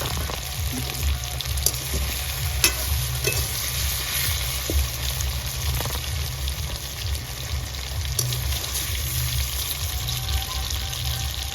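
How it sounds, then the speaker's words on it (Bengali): Potato and kohlrabi pieces frying in hot oil, a steady close sizzle with scattered crackles and occasional utensil clinks, continuous throughout with no talking. "আলু আর ওলকপিটা একটু ভেজে নিলাম তেলে"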